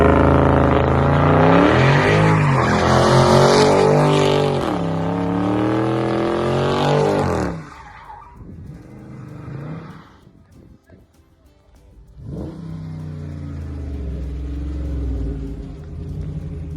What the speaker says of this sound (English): Hop in the car and give it a start.